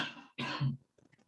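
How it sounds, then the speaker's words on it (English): A sharp cough lands right against a microphone, then a second heavier burst follows, loud and close, before faint shuffling noises trail off. "we could still hear the cough"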